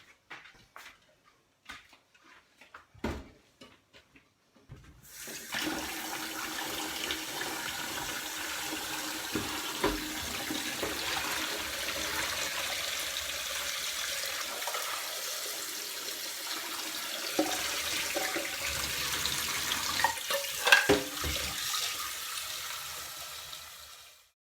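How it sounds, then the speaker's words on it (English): Cold tap water runs steadily into a sink over boiled eggs, a continuous broadband rush starting after a few seconds of quiet clicks and handling, with no talk. "get them into a sink, running cold water over them"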